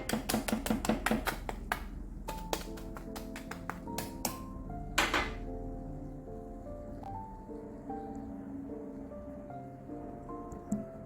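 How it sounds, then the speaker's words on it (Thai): A knife cuts through crispy toad in the hole, sausage baked in batter, with a quick run of sharp, crunchy cracks over the first five seconds, then softer clinks and ringing tones as it settles, close up with no talking. "กรอบมากเลยนะคะ ฟังเสียงค่ะ"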